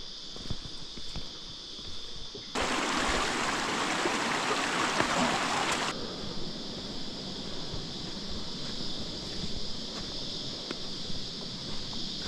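A river in the Lower Blue Mountains flows with a constant, nearby rushing babble, swelling into a louder broadband wash for a few seconds before settling back, with a high steady hiss throughout.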